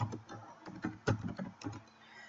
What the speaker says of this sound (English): let's try typing my name